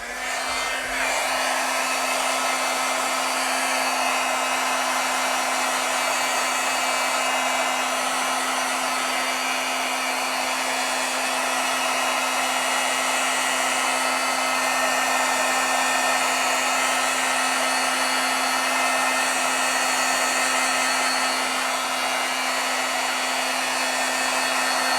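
An embossing heat tool runs steadily for the whole stretch, heat-setting stamped ink on a card over a cutting mat, a loud, continuous blowing whir with a constant motor hum underneath and no talking.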